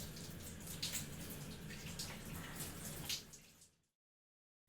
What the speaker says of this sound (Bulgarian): Анна ще се къпе редовно